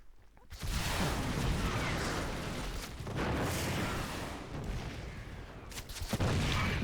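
Sieged tanks fire in a StarCraft 2 battle against a large army. A continuous roar of booming blasts and explosions swells and recedes over several seconds, with loud heavy impacts near the start and end.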